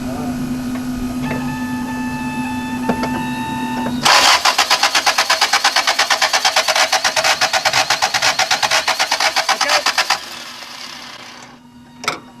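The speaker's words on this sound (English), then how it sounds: "Okay, crank it again." A 1978 Toyota Corolla converted to electronic fuel injection cranks for about six seconds without starting, a loud, close, rapid rhythmic starter churn that follows a steady electrical hum and ends in near silence.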